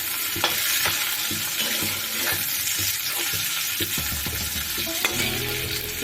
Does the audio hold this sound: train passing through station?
no